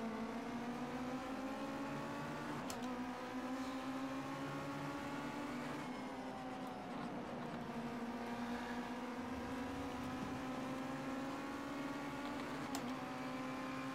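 Race cars at the start of a feature race in the video game Project CARS 2, a steady engine drone that rises and shifts in pitch, with gear changes breaking the whine across a long, unbroken stretch.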